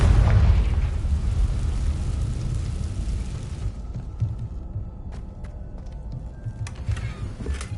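A Confringo spell explodes in Hogwarts Legacy: a loud, deep boom that rumbles and gradually fades over several seconds, followed by scattered faint clicks and game sounds.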